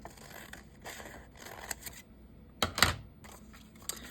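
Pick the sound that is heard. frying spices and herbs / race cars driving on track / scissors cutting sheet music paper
scissors cutting sheet music paper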